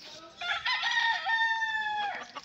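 A gamecock crows loudly and close, one long drawn-out call with a few softer clucks and crows from many fighting chickens around it.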